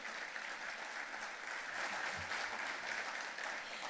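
Steady applause from the audience at an education foundation visionary dinner in Peoria, a dense, continuous patter of clapping hands that holds at an even level throughout, with no voices over it.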